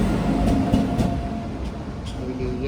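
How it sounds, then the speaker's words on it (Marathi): Madgaon to Nagpur train pulling in, a steady low rumble of rolling stock with faint rail clatter, heard close under a voice. "आमची ट्रेन येली."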